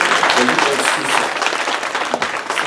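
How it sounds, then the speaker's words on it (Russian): Congregation applauding during a church seminar service in Kryvyi Rih, a dense, steady wash of many hands clapping at full volume throughout, with crowd noise mixed in. "Аплодисменты великому Богу."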